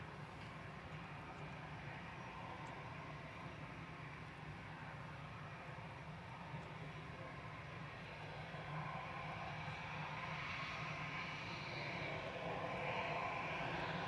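A passenger jet on approach to Manchester Airport, a steady broad engine roar that swells slightly louder toward the end, with no talking.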